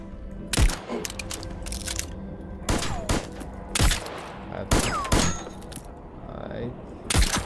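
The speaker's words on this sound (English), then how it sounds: "You, stop shooting me." Gunfire in the video game Voidtrain: irregular sharp shots and short bursts with metallic clangs and thuds over a steady background hum, fairly close, without talk.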